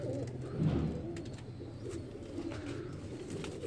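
Soft, low cooing from a bun-tail pigeon close by, a few throaty murmurs over faint background rustle.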